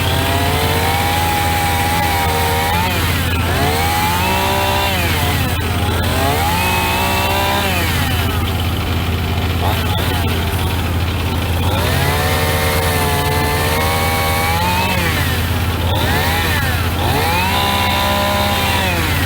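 Chainsaw biting through a red oak log while trimming, engine held near full throttle with repeated bogging and revving swings as the chain labors through the cut, loud and continuous with no talk.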